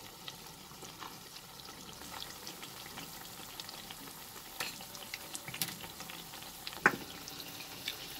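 Potato pakoras fry in a pan of hot oil with a faint, steady sizzle, scattered small crackles and one sharper pop near the end, with no voices.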